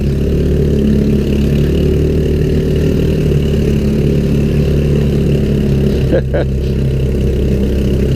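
A 150cc GY6 engine, just back from a flooding carburetor repair, idles steadily up close, a continuous loud drone with a brief dip near the end.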